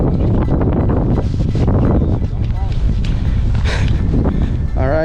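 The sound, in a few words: wind at a river below Lake Estes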